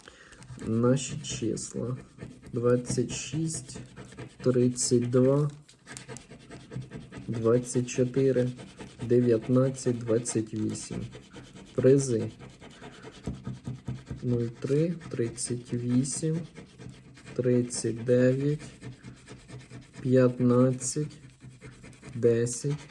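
A coin or fingernail rubs and scrapes the coating off Ukrainian scratch-off lottery tickets in repeated short raspy strokes, close up, while someone talks almost continuously over the scratching.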